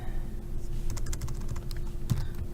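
Quick keystrokes on a computer keyboard while working in Inventor, a short burst of close, light clicks over a low steady hum.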